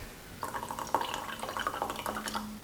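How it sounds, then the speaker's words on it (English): A splash of vinegar poured into a mixing bowl for a peanut butter and soy sauce sauce, a short run of close, light dripping and trickling lasting about two seconds, with no talk. "and a splash of vinegar."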